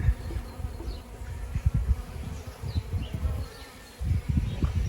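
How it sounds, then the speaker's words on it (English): Bees buzzing around an old ceanothus shrub in flower in a garden, a low, steady hum that swells and fades as they move close to and away from the blossoms, with no talk. "The bees love it."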